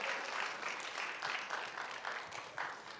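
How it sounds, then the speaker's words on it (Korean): Applause from a youth retreat audience in a church hall welcoming a pastor to the stage, a fairly quiet, steady wash of clapping from a room full of people. "여러분들의 큰 박수로 모시겠습니다"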